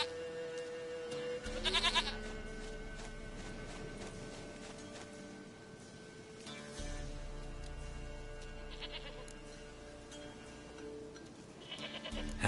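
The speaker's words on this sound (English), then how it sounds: "Goat of mine, dearest, sweetest goat." Goat bleating in The Witcher video game, several drawn-out bleats spread across a steady bed of game music and ambience, moderately loud and with no talking.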